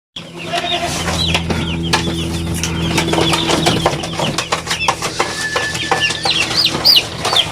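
Day-old broiler chicks peep in a dense chorus of high chirps close by in a brooding pen, steady throughout over a low hum, with shrill calls growing louder toward the end.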